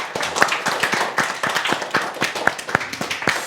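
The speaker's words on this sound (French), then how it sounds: "applaudir la nouvelle équipe s'il vous plaît" An audience at a school event with a collège team applauds steadily, a dense, close patter of many hands clapping without pause.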